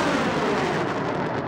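Fireworks going off in the video game Fireworks Mania, a dense, continuous roar of overlapping booms and crackle that stays loud and unbroken throughout.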